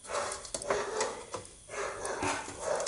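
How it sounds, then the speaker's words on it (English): Dogs bark repeatedly at a distance, sounding faint and muffled amid background noise. "the dogs are going crazy."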